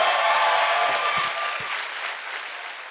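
Audience applause at a stand-up comedy show as comedians are introduced: a loud, dense burst of clapping from a crowd that slowly fades, with a brief whistle or cheer near the start.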